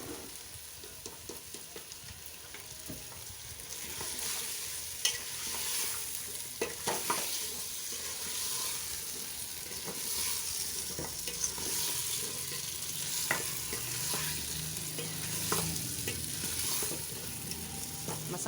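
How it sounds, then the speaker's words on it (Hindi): Potato slices are stirred into a spice masala frying in a pan, with a steady sizzle beneath repeated close scrapes and light taps of a spoon against the pan. "अच्छी तरह से इन्हें मसाले में मिक्स करके"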